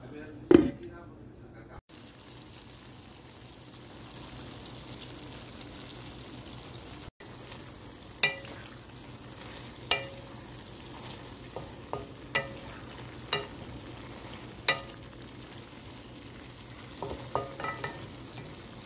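Mixed vegetables cooking in a pan over a low, steady frying hiss, punctuated by sharp spatula taps and scrapes that come in clusters, heard up close with no voices.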